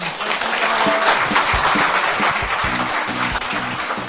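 A lecture audience at a special anniversary talk applauding, dense continuous clapping at full strength throughout, loud and close, with a host's voice faintly under it.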